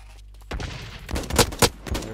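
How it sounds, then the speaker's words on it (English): Blacklight Retribution gameplay on a factory map: a thrown grenade blast arrives after a brief quiet, followed by several sharp bursts of close gunfire in quick succession. "I have a grenade, so let's throw it."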